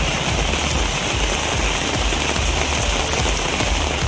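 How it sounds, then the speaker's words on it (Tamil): Heavy rain pours steadily in a Tamil Nadu town, low-lying streets pooling with water, a dense, continuous hiss and rumble that stays loud and even throughout with no voices. "பல்வேறு பகுதிகளில் கனமழை பெய்தது"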